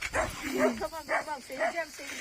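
Dogs in a garden yip and bark excitedly with whining in short rapid bursts, close and fairly loud, while people talk over them.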